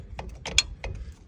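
Drum brake shoe adjuster on a 2013 Toyota Tacoma being turned by hand, a few close metallic ratcheting clicks and creaks in a quick uneven series.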